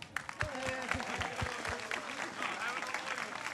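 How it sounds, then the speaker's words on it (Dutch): Audience applause at a village talent event in Koudum, a broad wash of clapping with speech and voices heard over it throughout. "Ik zou zeggen een groot applaus voor ze."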